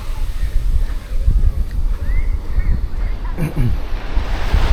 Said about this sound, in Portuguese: O som do vento, do mar e das gralhas.